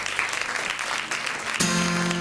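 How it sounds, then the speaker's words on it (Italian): Television studio audience clapping fills the first second and a half, then music with sustained tones cuts in loudly. "lui signori è Gigi Sanna, eccolo qui, un bel applauso."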